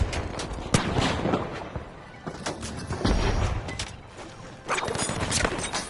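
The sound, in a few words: flashbang grenade exploding in a video game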